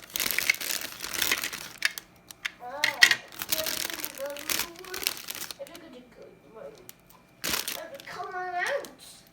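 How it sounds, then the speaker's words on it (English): Children's high voices chatter intermittently in the background of a room, mixed with crinkling plastic packaging and small clicks from an unboxing, moderately close and fairly quiet. "you can hear my kiddos in the background"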